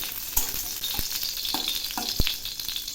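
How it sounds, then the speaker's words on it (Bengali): Cashews and raisins fry in a pan with a bay leaf, giving a steady, bright sizzle. Several sharp utensil taps and scrapes from stirring punctuate it, close up and with no talking. "এখন আমি দিচ্ছি কিছু কাজু আর কিশমিশ। এগুলি একটু হালকা করে ভেজে নেব"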